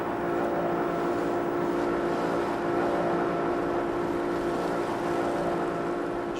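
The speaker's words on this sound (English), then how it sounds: "I'm slowing down because there are lots of corals, and that could damage the engine." A motorized canoe engine drones steadily on the water near a coral reef, a constant close rumble with no breaks, loud and unchanging throughout.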